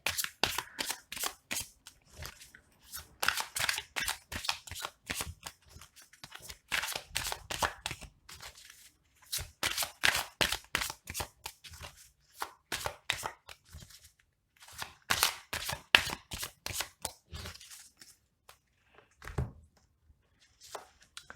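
Lenormand cards being shuffled and laid out on a table, rapid close riffling and slapping bursts repeating in quick clusters with short pauses between them.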